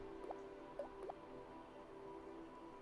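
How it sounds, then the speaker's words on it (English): Water fills a pool in the theme-park building game Planet Coaster, heard as a few faint, quick drips and gurgling plops over a quiet steady background, with no talk. "So I'm going to fill this with water."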